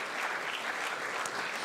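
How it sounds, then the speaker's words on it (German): Steady, dense applause from an audience at a charity gala in Frankfurt, clapping continuously at even volume without a break. "Gerne einen Applaus"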